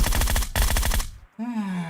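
Rapid automatic gunfire from PUBG Mobile rattles loud and close in two dense bursts, separated by a brief gap, then cuts to a short pause before a sustained whining tone.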